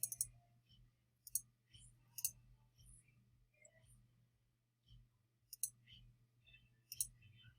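Sharp computer mouse clicks, a handful of them spread irregularly at close range, over a low steady hum.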